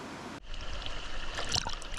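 A glacial fork of the Sandy River on Mt. Hood rushes in a steady, fairly loud wash of flowing water, near and continuous after an abrupt start, with no voices.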